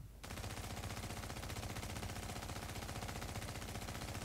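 Sustained rapid automatic fire from a PP-19 submachine gun in The Division video game, a dense unbroken burst that starts almost immediately and runs loud and steady without pause.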